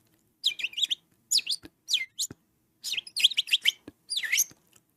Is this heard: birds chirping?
yes